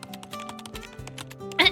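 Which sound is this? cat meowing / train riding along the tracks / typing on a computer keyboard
typing on a computer keyboard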